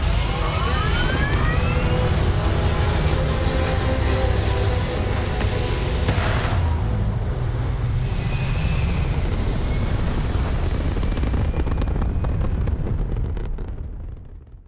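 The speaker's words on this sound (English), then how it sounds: "Engines firing." Spaceship engines fire in Starfield, a loud continuous roaring rumble with rising whooshing tones early on, holding steady for many seconds before tapering off at the end, no voices.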